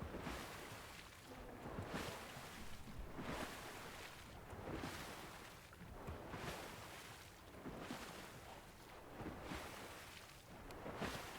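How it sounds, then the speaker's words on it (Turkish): Rhythmic washing of water in the video game Fortnite, swelling and receding every couple of seconds like waves, steady and fairly close, with no voices. "Bu su sesini değiştirmişler sanki."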